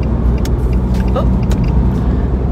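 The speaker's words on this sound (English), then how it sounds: "I wish this traffic would hurry up." Steady road traffic rumble heard from inside a car, a constant low engine and tyre drone with faint passing-vehicle swells, no talking.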